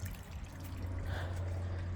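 A small stream trickles steadily with a soft, continuous watery babble, heard nearby with a low background hum.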